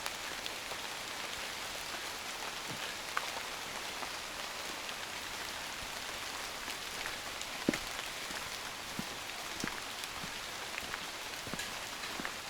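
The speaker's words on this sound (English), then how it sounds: "It's now a little bit more heavier rain." Steady rain falls through tropical rainforest on a walk near North Head in Sydney, a dense continuous hiss with scattered louder drips and drops striking leaves nearby, no voices.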